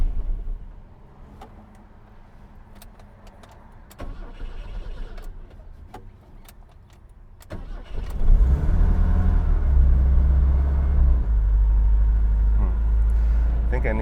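An engine on a classic BMW car cranks and starts near the end after a stretch of quiet handling noises and clicks, then runs loudly and steadily as it begins warming up.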